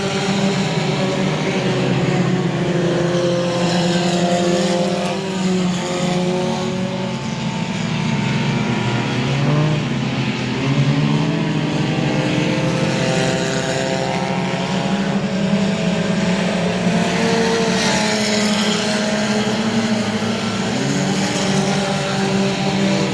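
Tuner race cars stretch out around the I-37 Speedway oval in Texas, several engines blending into a steady, loud droning roar that continues without pause and without voices.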